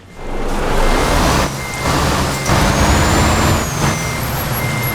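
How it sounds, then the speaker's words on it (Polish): Truck in Euro Truck Simulator 2, a loud close engine rumble with brief dips, a steady reversing beep and hissing air-brake bursts, no talk. "ten dźwięk kompletnie się zmienił. Zupełnie inaczej teraz brzmi ciężaróweczka"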